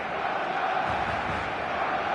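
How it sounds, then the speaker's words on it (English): Full football stadium crowd on match day, a dense, continuous roar of many voices with a chanting edge, steady and moderately loud throughout. "The stadium is full of noise and energy."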